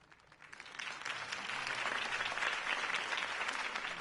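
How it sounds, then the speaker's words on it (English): Crowd applause at a political campaign rally in the video game Telltale Batman, swelling from a quieter start into a sustained, dense clapping roar. "could have heard that applause"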